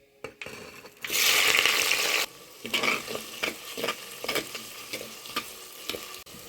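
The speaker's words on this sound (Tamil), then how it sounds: "நல்லா பூண்டு வெங்காயம் பச்சை மிளகாய் எல்லாம் வதங்கி நல்லா கலர் சேஞ்ச் ஆயிடுச்சு" Garlic, onions and green chilies fry in a pan for a fish curry, opening with a loud, steady sizzle lasting about a second before giving way to a series of spatula stirs and scrapes against the pan.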